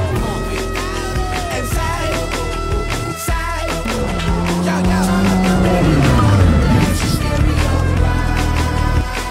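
An Audi RS4 Avant, a 2.9-litre twin-turbo 450-horsepower all-wheel-drive estate with an eight-speed automatic, is driven hard on a race track. The engine note is loud and close, climbing in pitch, dropping sharply at a gearshift, then revving up again.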